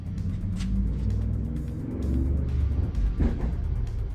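A car passing on the street outside after a backfire, a steady low engine rumble that swells and fades over a few seconds, with a brief sharper burst near the end, heard from indoors at moderate distance.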